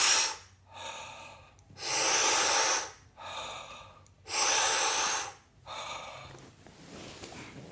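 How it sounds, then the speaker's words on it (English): Slow, deep breaths during holotropic breathwork, loud drawn-in inhales alternating with softer released exhales in a steady rhythm of about four cycles, close up, with no talking. "just take deep inhales and exhales"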